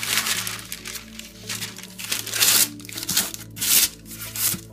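Parchment paper crinkles and rustles as it is handled and pressed into a baking tray, close by, in irregular bursts of crackling over a few seconds.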